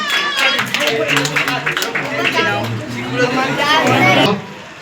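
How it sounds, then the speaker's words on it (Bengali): An audience claps together to welcome a visiting pediatric doctor at a gathering, a dense run of hand claps and crowd chatter mixed with voices, fading toward the end. "ওনাকে সবাই মিলে হাততালি দিয়ে একটু সম্বর্ধনা দিন"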